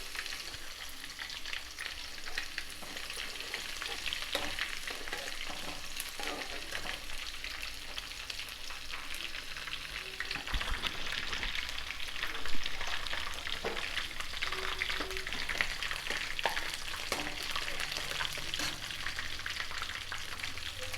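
Small onions frying in hot oil for a raw mango pickle tempering, a continuous close crackling sizzle with occasional stirring scrapes, no talking.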